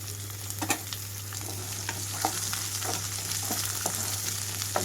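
Carrots and beans stir-fry in a pan with an even, continuous sizzle and a few soft scrapes from stirring, close by with a low steady hum underneath and no voices.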